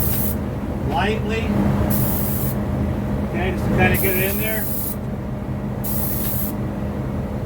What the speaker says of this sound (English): I'll go ahead and spray that back edge